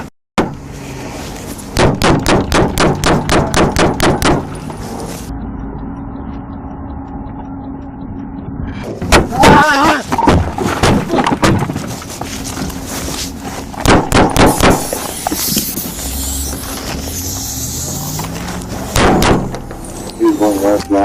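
Gunfire erupts in rapid volleys, with several bursts of sharp, loud shots spread across a police bodycam encounter where an officer is shot at, amid engine noise and other background sounds.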